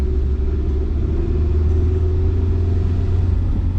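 A rebuilt Honda CR-V driving along a road, with a steady, loud low engine rumble and road drone that holds constant throughout and no voices.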